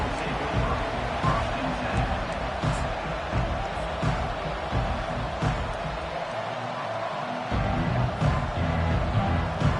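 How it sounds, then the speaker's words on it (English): A stadium crowd in the College Football 25 video game roars and cheers continuously as a loud, dense wash of noise, with a game commentator's voice talking over it. "This crowd bringing an ear-splitting welcome to their visitors."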